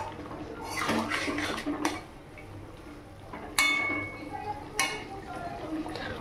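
Poppy-seed paste with tomato being stirred and fried in a pan over a high gas flame, soft scraping and a few sharp metallic clinks of a utensil against the pan, quiet and close.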